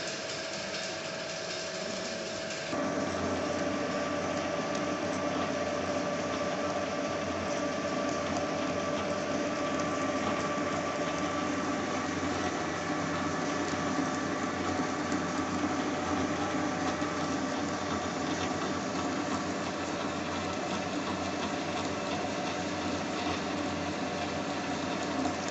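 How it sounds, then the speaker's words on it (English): A metal lathe taper turning with the compound slide at a 0.8 depth of cut, running as a steady, continuous mechanical whir and gear hum that grows slightly fuller after the first few seconds, with no talking. "In this way we are doing taper turning operation with the help of compound slide"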